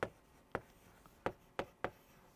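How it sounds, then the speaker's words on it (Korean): Marker or chalk writing on a board in a classroom-style lecture setting, five short, sharp strokes spaced about half a second apart, quiet and close, with no talking. "이렇게 써볼게요."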